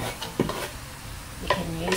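Red onions for pork adobo go into a hot pan, giving a soft steady sizzle with a few sharp stirring clatters of a utensil against the pan; no speech.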